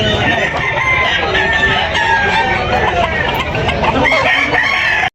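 Many chickens cluck and squawk close by, overlapping continuously with a rooster crowing among them, like a busy crowded coop.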